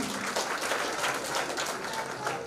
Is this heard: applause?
yes